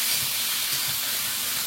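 Tomato paste sizzles in a frying pan over a fried vegetable curry base, giving a steady, fairly quiet hiss with no break and no voices.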